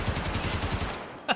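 ASH-12 rifle fired on full auto in Escape from Tarkov, a loud close burst of rapid, evenly spaced heavy shots that stops abruptly, followed by one short sharp impact.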